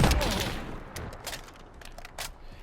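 FAL rifle hipfire in Modern Warfare, a rapid volley of loud, booming gunshots in close succession that gradually fade, with no voices.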